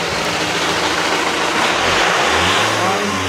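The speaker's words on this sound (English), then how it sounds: "I'm gonna rev it up now." Car engine revving during a battery tester check, a steady loud drone that climbs in pitch near the end, heard close with no talking.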